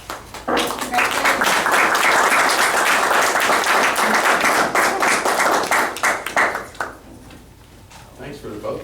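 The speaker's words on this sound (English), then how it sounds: "Good clap." Council members and attendees clap after a new council president is elected, a loud burst of many hands that thins out and fades after several seconds, with scattered voices talking throughout.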